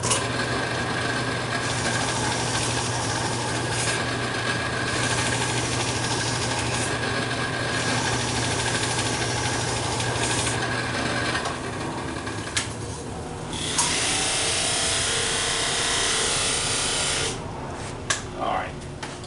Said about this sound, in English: Now, let me sharpen my gouge.